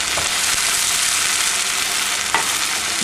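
Pasta with guanciale, zucchini and saffron stirred in a hot pan, a steady close sizzle and frying hiss with a couple of soft scraping stirs, no voices.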